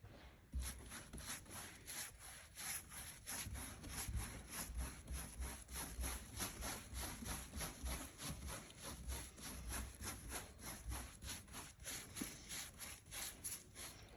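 A brush spreading varnish across a painted portrait of The Queen, heard as steady, rhythmic swishing strokes that repeat evenly back and forth, quiet and close with nothing else around.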